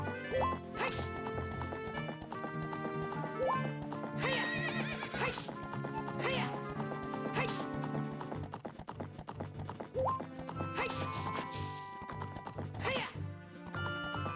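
Horse galloping in Ocarina of Time, steady clip-clop hoofbeats with occasional whinnies running throughout over layered game music, fairly quiet and continuous.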